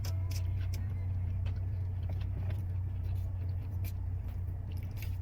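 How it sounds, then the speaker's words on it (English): Inside a car, the air conditioning runs as a constant low hum and steady blowing hiss, faint and close, with scattered small clicks and rustles but no talking. "I'm sorry if you can hear the air conditioning"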